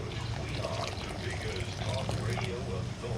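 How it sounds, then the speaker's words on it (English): Water is poured back into a canning pot holding five jars of jalapeño pepper jelly, a continuous splashing pour at moderate distance with a faint voice underneath. "and then you put the water back in there"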